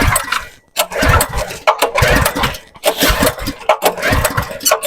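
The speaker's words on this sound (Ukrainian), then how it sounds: "Зараз подсос і заводимо на бензині." A homemade house generator engine is cranked on petrol with the choke on, giving repeated churning pulls separated by short pauses, loud and close, without catching into a steady run.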